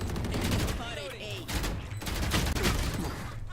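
Rapid bursts of Spectre submachine-gun fire in Valorant crackle close and loud, overlapping into dense rattling volleys, with a voice talking briefly underneath.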